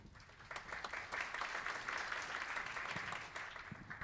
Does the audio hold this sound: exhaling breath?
no